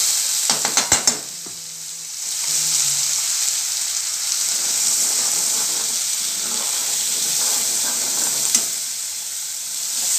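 Ground masala sizzling in hot oil while being sautéed for homemade chana bhaji, a steady bright hiss after a few quick clinks of a spoon against the pan at the start, with no talking.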